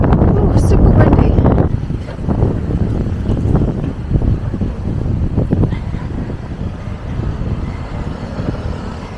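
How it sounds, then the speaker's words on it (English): Strong wind buffets the microphone on a seaside promenade in Maspalomas, Canary Islands, a loud rumbling roar that is heaviest early on and keeps gusting throughout, with some talk mixed in. "Oh, super windy."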